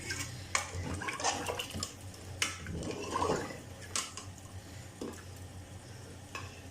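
Water is poured into a cooking pot while making mutton nihari, giving a quiet, uneven splashing and sloshing with occasional clinks of metal, faint and close, with no talk.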